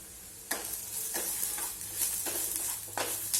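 Turmeric and red chili powder sautéing in a pan for a brinjal bharit, a steady sizzle broken by several sharp spatula scrapes and stirring strokes at close range.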